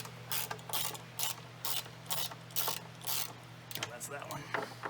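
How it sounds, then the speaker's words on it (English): A ratchet drives bolts into the keel of a 1973 Catalina 22 sailboat, producing a rhythmic run of clicking bursts, moderately loud and close, with a steady low hum underneath. "Here's Andy laying on his back, driving those bolts home."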